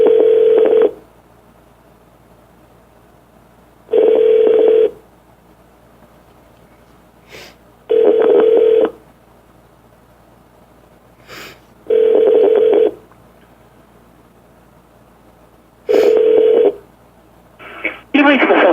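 Telephone line tones during a call transfer to voicemail: a repeating electronic ring tone sounds in evenly spaced bursts about every four seconds, with brief clicks between them, loud and clear on the line.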